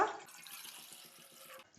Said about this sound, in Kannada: ನೋಡಿ ಸ್ವಲ್ಪ ನೀರು ಆ್ಯಡ್ ಮಾಡಿದ್ದೇನೆ